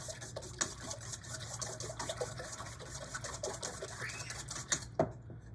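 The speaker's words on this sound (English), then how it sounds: "I'm going to go ahead and whisk these eggs." A whisk beats a dozen eggs in a bowl with quick, even clicking strokes, close but soft, and the rapid rhythm ends in a couple of final taps.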